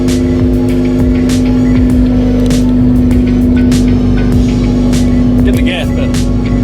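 A car engine idles steadily after a fresh set of spark plugs, a continuous low hum throughout with faint ticking on top.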